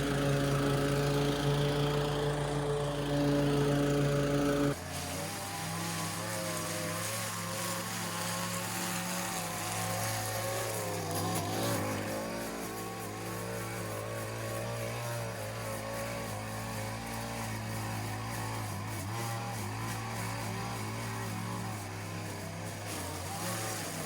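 A lawn mower cuts a weedy yard in Texas, its engine droning steadily and close for the whole stretch, with a louder, deeper idle at the start before it settles into a continuous mowing hum.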